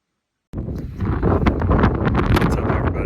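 Strong outdoor wind buffets the microphone during a hunting trip in New Mexico, a loud continuous rumbling roar that starts abruptly and keeps gusting for several seconds with no speech.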